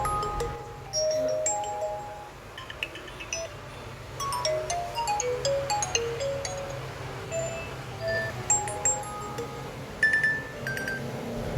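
A tinny electronic ringtone melody plays from a Nokia 6.1 Plus phone as a series of short, bright tones, fairly quiet, over a low steady hum with no voices.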